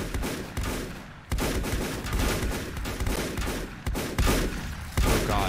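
Rapid bursts of gunfire crack against a turret in the survival game Volcanoids, repeated shots landing in uneven clusters at moderate loudness with no talk over them.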